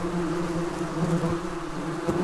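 Yellow jacket wasps buzz steadily and close by, a continuous droning hum with a strong low tone that holds without pause, no voices present.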